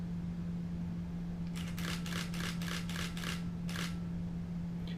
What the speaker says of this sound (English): I think I've got it in continuous, and so let's just do like a fast shutter